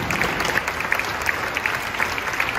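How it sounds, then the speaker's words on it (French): Audience applause for the dancers in a French stage show, a steady wash of many hands clapping with scattered sharper claps standing out. "il faut aussi les applaudir"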